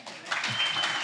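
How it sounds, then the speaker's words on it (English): Team members at an update meeting break into applause in a short, bright burst of clapping that swells quickly and lasts about a second. "Give him a round of applause"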